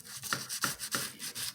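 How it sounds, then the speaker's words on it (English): Bristles of a toothbrush scrub the grimy base of a bathroom sink in quick, rasping back-and-forth strokes, about five close, distinct rubs with no talking. "the key, you guys, is to use a toothbrush"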